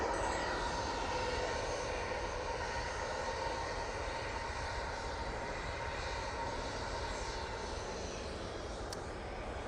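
A KLM Embraer jet near Amsterdam Schiphol gives a steady, broad engine roar that stays loud and constant, with a faint high whine running through it.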